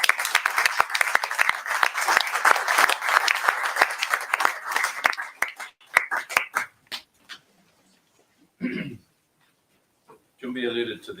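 An audience claps at a memorial service, with dense applause that thins into a few scattered claps and fades out, followed by brief sounds of someone speaking.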